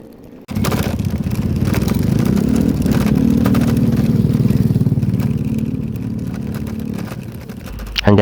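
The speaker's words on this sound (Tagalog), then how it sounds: "Hanggat may kalsada at kayang daanan ng aming motor, yan po ay aming pupuntahan." Motorcycle riding along rough, bumpy rural roads, its mid-pitched engine starting abruptly and droning close and loud with a steady throb that rises slightly and then eases.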